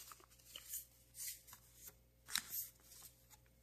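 Paper folded by hand, a run of soft crinkling rustles and creases coming in short bursts, quiet and close with no talk.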